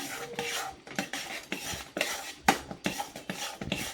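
Makhana barfi mixture is stirred nonstop in a pan, giving close, rhythmic scraping and clinking strokes of a spoon against the metal, repeated every fraction of a second with no talk.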